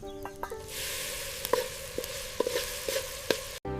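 Tomatoes and green chillies sauté in a pan, giving a steady close sizzle broken by several soft taps and scrapes of stirring, with no talking.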